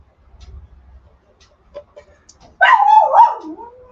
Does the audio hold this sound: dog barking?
yes